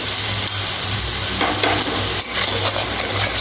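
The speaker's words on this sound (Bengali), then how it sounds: "মশলাটা কষিয়ে নেব।" A spice masala for a vegetarian Bengali soybean dish is stirred and fried in a pan, a loud continuous sizzle with spatula scraping throughout, no voices.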